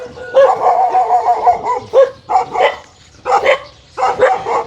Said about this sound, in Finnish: Ja koiria tietysti hirveästi täällä.